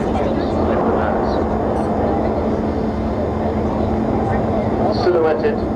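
Avro Vulcan XH558 jet bomber with Rolls-Royce Bristol Olympus engines flying at an air show, a steady, loud, broad roar sustained throughout with a constant low hum, while a commentator talks over it.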